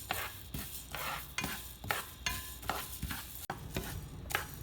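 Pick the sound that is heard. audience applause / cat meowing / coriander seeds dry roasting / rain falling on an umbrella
coriander seeds dry roasting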